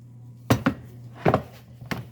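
Minced beef being mixed by hand with a mashed potato mixture in a bowl, a few soft squelching and knocking bursts spaced irregularly, close and fairly quiet, with no talking.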